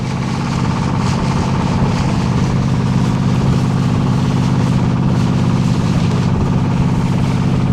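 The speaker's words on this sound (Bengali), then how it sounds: "ঢেউ আর আমাদের নৌকা এগিয়ে চলেছে" A motor boat's engine drones steadily and loudly as the boat pushes through choppy waves on a river trip near Luvachora, Kanaighat, Sylhet. The low rumble holds unbroken from start to finish.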